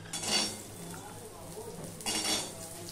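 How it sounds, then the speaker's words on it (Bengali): Cut potatoes tipped into a frying pan with garlic and oil, two loud clattering scrapes and clinks of metal on the pan about two seconds apart over a soft sizzle, with someone talking. "এবারে দেখো এই আমি কেটে রাখা আলুগুলো দিয়ে দেবো।"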